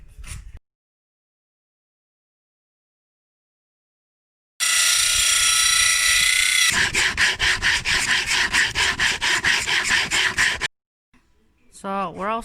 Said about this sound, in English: I'm just going to sand them with some rough sandpaper